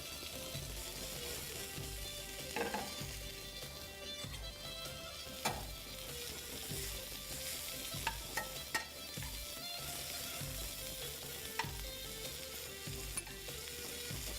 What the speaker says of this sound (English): we're just going to let that saute for a minute